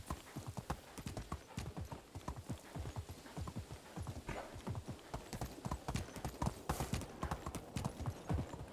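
Horse hooves clip-clopping in the Medieval Dynasty video game, a steady, even rhythm of crisp hoofbeats throughout, fairly close and alone without talk.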